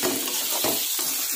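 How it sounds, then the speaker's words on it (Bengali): Onion and potato with garlic paste sizzle steadily in a frying pan while being stirred, with a few louder scraping swishes of the spoon against the pan over continuous frying noise. "ওর মধ্যে রসুন বাটা দিলাম, নাড়ব।"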